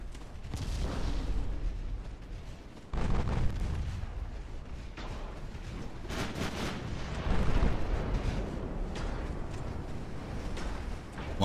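Torpedo and shell explosions at sea in the naval game Ultimate Admiral: Dreadnoughts, a continuous heavy rumble of booms with louder blasts standing out, close and dense throughout with no talking.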